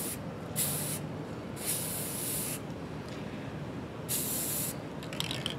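Aerosol spray paint hisses in three bursts of about a second each onto model terrain trees, with a short pause between each burst and quiet surroundings.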